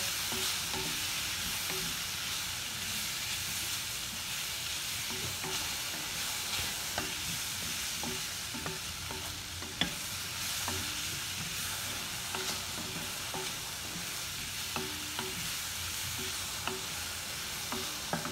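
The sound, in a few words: stirring pasta with Maggi masala in a pan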